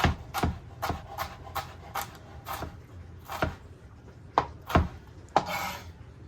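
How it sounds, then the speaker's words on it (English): A knife minces jalapeño on a cutting board in a home kitchen, sharp irregular chops knocking against the board, close and clear with quiet pauses between strokes. "Turn it 90 degrees and mince"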